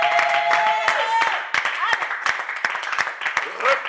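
Congregation applauding during an online prayer service, scattered sharp claps and a burst of clapping running throughout, with voices and speech mixed in.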